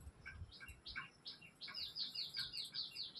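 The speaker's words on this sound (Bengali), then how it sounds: "ওটা খুব পাখিতে ডাকে" Small birds call outside in the morning, a quiet run of quick repeated chirps and tweets at moderate distance, growing more rapid toward the end.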